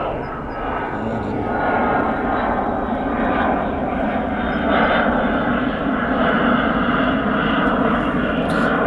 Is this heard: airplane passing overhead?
yes